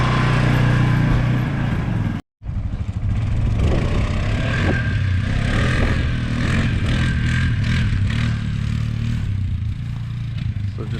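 A 2020 Polaris Sportsman 450 ATV running in a yard on a test run, its engine droning and revving with clattering mechanical noise, close and loud, after a brief cut near the start.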